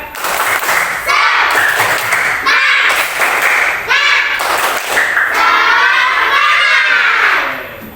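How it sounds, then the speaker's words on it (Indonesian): A classroom group performs a rhythmic spirit clap, loud patterned bursts of clapping and thumps with voices chanting and shouting along, close and energetic over several seconds. "Ayo kita tepuk semangat lagi biar tambah semangat."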